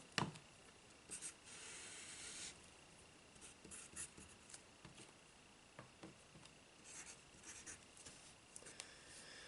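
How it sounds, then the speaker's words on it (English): A pen or pencil scratches steadily across paper while a math solution is written out, soft and close, with short strokes and pauses and no talking. "Let's write that down."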